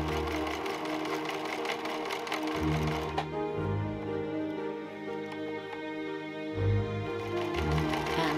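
A sewing machine runs in steady bursts, stitching the front pieces of an 1882 Victorian day gown together, its close, continuous mechanical whir pausing and restarting with no talk.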